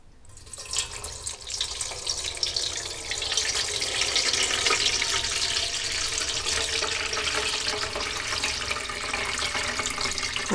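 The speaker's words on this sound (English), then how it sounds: "So I'm going to rinse these two things out, and I'm going to strain it one more time" A kitchen tap runs steadily as two bowls are rinsed out while making chokecherry jelly and syrup, a close rushing splash of water that swells after a soft start and continues without pause.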